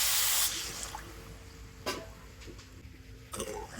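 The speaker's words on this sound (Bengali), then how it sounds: "আর ওই একই বাটি মেপে এক বাটি জল দিয়ে দেবো।" A bowlful of water is poured into a kadai holding a bowlful of sugar for a raw mango recipe: a loud splashing pour at the start, then quieter trickles and a few drips.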